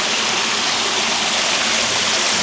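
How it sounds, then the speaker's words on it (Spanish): Water flowing steadily at Hakone, Japan, a continuous close rushing and babbling like a stream, with no breaks and no voices. "escuchen cómo fluye el agua"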